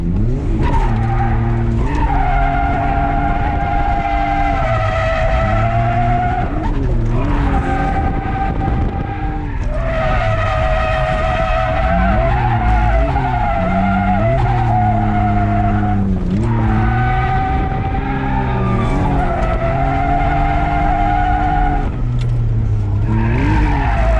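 A BMW E46 wagon drifts on a track, its tires skidding and squealing in long wavering screeches over a loud, continuous engine roar, close and sustained.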